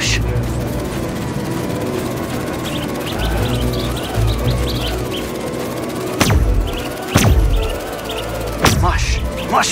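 Birds chirp in the video game Spider-Man 2: brief high chirps over steady game ambience, with a few sharp thumps near the end.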